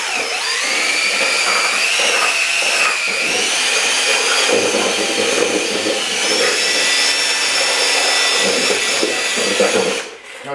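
A plastic or rubberized mixer churns urethane mold compound with a steady, loud whirring drone that holds for about ten seconds and then cuts off abruptly near the end.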